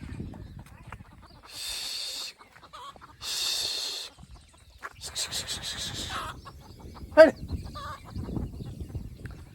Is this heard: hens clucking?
yes